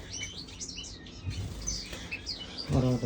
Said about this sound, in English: I'm in the finch room.